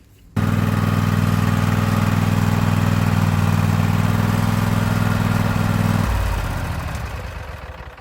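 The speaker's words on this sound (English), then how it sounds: "let's get the tractor up on the lift." A hydraulic lift motor hums loudly and steadily as it raises a Husqvarna LGT2654 lawn tractor, starting abruptly, droning for about six seconds, then dropping in pitch and winding down.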